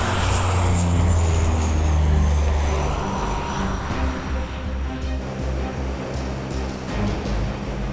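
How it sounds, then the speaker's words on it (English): Golden Knights aircraft taking off from runway 33, its loud propeller engine roaring strongly at first, then easing into a steadier drone as it climbs away. "As soon as the aircraft takes off"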